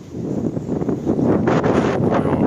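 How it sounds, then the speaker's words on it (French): Wind buffets a microphone with loud, gusty rumbling that swells and fades throughout, with no voices. "Oh là là, le vent."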